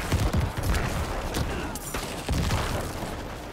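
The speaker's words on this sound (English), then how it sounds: "Explosions!" Explosions in Diablo IV gameplay, a dense cluster of booming blasts and crackling bursts at the start, then softer rumbling detonations that fade out.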